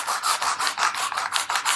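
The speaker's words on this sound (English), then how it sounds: "sand it like so, and you can see how I'm starting to develop a natural contour there" A guitar's wooden body is sanded by hand in quick, rhythmic back-and-forth strokes, a close, dry rasping repeated about eight times in under two seconds.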